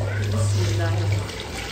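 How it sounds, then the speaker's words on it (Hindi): Water pours into a cooking pot with a steady, close rush of liquid, set against kitchen background noise. "इधर भी पानी ऐड किया जा रहा है"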